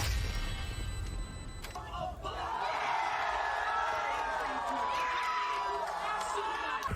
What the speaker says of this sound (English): I don't know how this crowd is so loud.